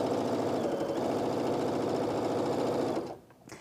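A sewing machine stitches strips of fabric for a log cabin quilt block, running at a fast, steady whir for about three seconds before stopping abruptly.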